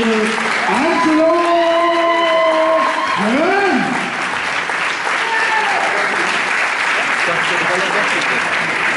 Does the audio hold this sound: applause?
yes